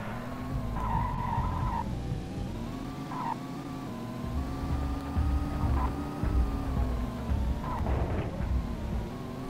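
Tires screech and skid repeatedly as a car is shoved along in the GTA video game, with a constant engine drone underneath and several sharp squeal bursts spread across the stretch.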